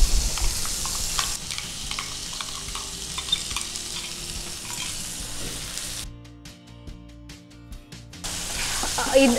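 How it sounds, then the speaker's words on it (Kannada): Masala sizzles in hot oil in a pan for a kingfish masala fry, with steady close frying crackle and occasional stirring scrapes, briefly quieting before the sizzle returns. "ಇದರಲ್ಲಿ ಸೈಡ್ ಅಲ್ಲಿ ಎಣ್ಣೆ ಬಿಡ್ತದೆ ಅಷ್ಟರ ತನಕ ಫ್ರೈ ಮಾಡಬೇಕು"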